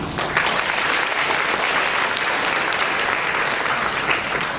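Steady, dense applause from a sizable crowd fills the whole stretch, loud and sustained without letting up.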